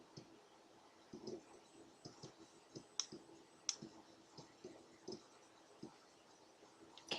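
Computer mouse clicks while working in Cricut Design Space software, a string of soft, irregular single and double taps, close and quiet, with no talk.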